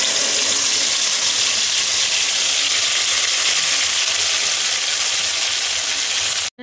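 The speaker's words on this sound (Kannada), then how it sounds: "ಎಣ್ಣೆಯಲ್ಲಿ ಚೆನ್ನಾಗಿ ಫ್ರೈ ಮಾಡಬೇಕು, ಒಂದು 2-3 ಮಿನಿಟ್ಸು" Spice masala for egg sambar frying in hot oil in a pan, a steady, loud sizzling hiss that runs unbroken and cuts off abruptly at the end.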